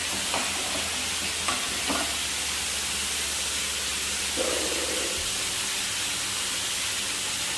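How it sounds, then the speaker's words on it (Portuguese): Leek and carrot are sautéed in a pan on a home stove, filling the space with a dense, steady hiss of frying and a few faint stirring knocks, close and constant throughout, with no talk. "Vou refogar primeiro aqui o alho poró com a cenoura"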